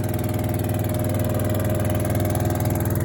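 Motorbike on the road by Rathoa Haryam Bridge near Mangla Dam, Mirpur: a close, steady pulsing engine drone holds for about three seconds, loud and throaty, with no talk.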